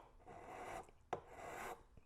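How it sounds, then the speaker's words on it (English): An old Craftsman file rasps across a polymer Magpul PMAG AC/AICS magazine in two slow, steady strokes with a brief knock between them, close and fairly quiet. "to remove a few thousandths, it's going to take a bit of filing here"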